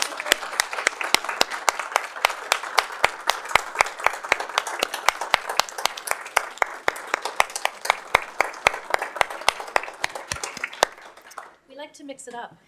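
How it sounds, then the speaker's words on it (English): A small audience at a school board of trustees public meeting stands and applauds, with clear individual claps in a brisk, fairly sparse rhythm that die away near the end, leaving brief quiet talk. "the board will now stand to applaud you now"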